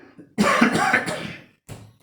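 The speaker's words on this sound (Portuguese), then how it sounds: "tossindo direto por causa do resfriado" A single harsh cough with a rasping throat clear from someone with a cold, followed by a short second cough burst after a brief pause.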